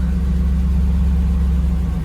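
A 1991 Pontiac Firebird engine idles steadily, a loud close low rumble with an even pulse; any slight tick is not clearly separable from the drone.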